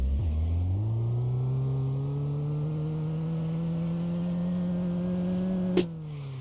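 A car with a 1.8 engine in My Garage revs up and then holds a steady, rising drone while attempting a donut, ending in a short sharp knock and a drop in pitch.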